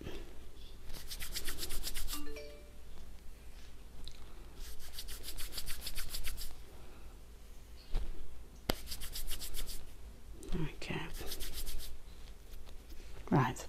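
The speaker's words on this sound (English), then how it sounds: "a bit of wool, and rub it in my hands. Rub it on here" Wool fibres are rubbed between hands and against a surface for needle felting, producing soft, close bursts of scratchy rubbing that come and go, with faint sounds between.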